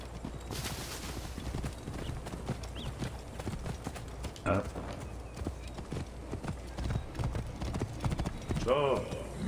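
A horse gallops in Assassin's Creed Origins, rapid close hoofbeats driving steadily throughout, with a whinny near the end and someone talking over the action.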